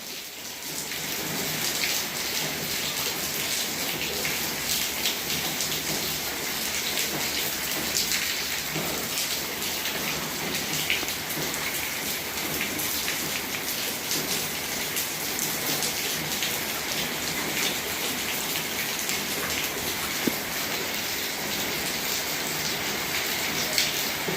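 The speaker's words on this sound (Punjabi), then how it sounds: "ਮੀਂਹ ਜਿਹੜਾ ਆ ਉਹ ਕਾਫੀ ਜ਼ਿਆਦਾ ਜਿਹੜਾ ਪਈ ਜਾ ਰਿਹਾ ਆ" Heavy rain in Punjab that has been falling without a break for many hours, pouring as a dense, unbroken hiss of drops on surfaces at a steady loud level throughout.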